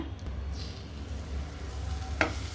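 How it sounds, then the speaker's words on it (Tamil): Mashed banana drops into melted ghee in a pan on a low flame, giving a soft continuous sizzle with a faint sharper crackle near the end; no one speaks. "இப்போ நெய் உருகினதுக்கப்புறம் அடுப்பை சிம் பண்ணிவிட்டு மசிச்சு வச்சுருக்கிற வாழைப்பழத்தை இதில் சேர்த்துக்கிறேங்க."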